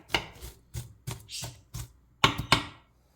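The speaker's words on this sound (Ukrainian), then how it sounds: "Беремо одну рібчасту цибулю, чистимо її та нарізаємо дрібними шматочками." A knife finely chops an onion on a cutting board in about nine crisp, close strikes, spaced irregularly with short pauses between them.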